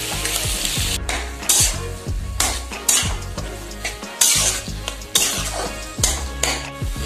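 Brinjal pieces going into a pan of softly boiled peas and being stirred, with loud, steady sizzling and repeated scraping of a spoon against the pan, alone and close throughout.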